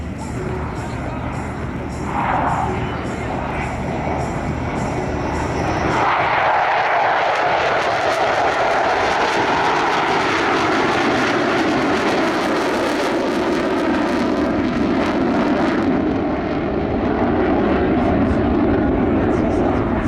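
Military jets of the Requin-Mike patrol roar past at the AirLegend 2023 air show, a loud sustained engine rumble swelling and lingering for many seconds while a commentator speaks over the public address.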